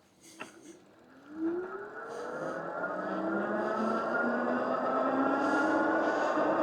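A Kingbull Hunter 2.0 fat tire electric bike runs at full throttle with its speed limit unlocked. A rising whine climbs steadily in pitch as the motor accelerates, close and growing louder, over wind and tire noise.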